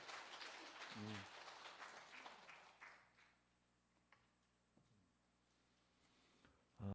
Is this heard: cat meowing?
no